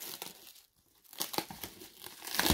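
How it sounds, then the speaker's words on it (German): Plastic protective film peeled and crinkled off a Funko Pop box from a horror-themed collector box, with close crackling and tearing in uneven bursts, a brief pause midway, then louder rustling. "Ich mache mal die Folie auf, damit es ein bisschen besser sieht."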